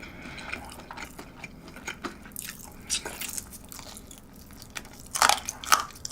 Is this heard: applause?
no